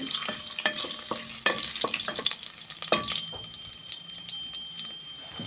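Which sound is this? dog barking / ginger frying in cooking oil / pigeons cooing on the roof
ginger frying in cooking oil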